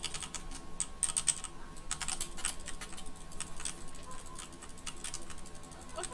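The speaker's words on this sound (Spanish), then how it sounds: "Oye, que llego a 10 clics por segundo" Rapid mouse clicking during a Minecraft Hypixel Creeper Attack match, a fast, steady stream of sharp close clicks running throughout, with faint background hum.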